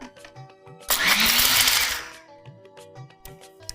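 A mixer grinder whirs loudly for about a second as it crushes spices with powdered sugar, rising abruptly and dying away, framed by quiet kitchen clatter before and after.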